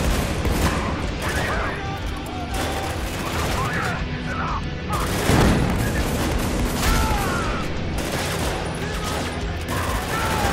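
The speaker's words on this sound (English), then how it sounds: "was someone shooting behind me" Sustained gunfire in the war shooter Spec Ops: The Line, played in co-op, with dense overlapping shots and bursts through the whole stretch and a heavier blast near the middle, under occasional voices.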